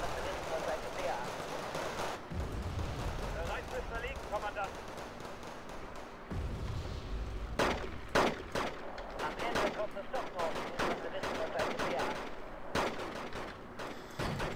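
Mortar fire in the strategy game Wargame Red Dragon, heard as a quick run of sharp blasts and gunshot cracks in the second half over a rumbling battle backdrop, with someone talking over the action.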